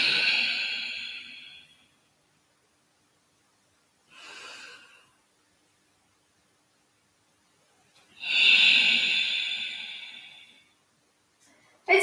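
Slow, deep breaths during yoga arm raises: a long breathy inhale, a short soft breath, then another long full exhale, close and alone, with quiet gaps between.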